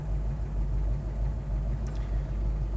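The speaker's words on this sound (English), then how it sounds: "We're idling real nice in the car" A 1971 Chevrolet Nova's engine idles, heard from inside the car as a steady low rumble with an even, gently pulsing beat and no voices.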